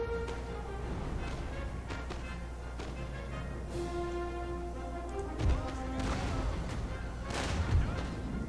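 Cannon artillery booms in a Napoleonic battle video game, several heavy blasts scattered over a continuous din of distant gunfire, with a voice talking underneath.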